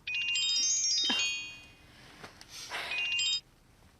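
An electronic phone ringtone trills in two bursts of bright, repeating tones with a short gap between them, fairly close and clear, in a TV drama scene.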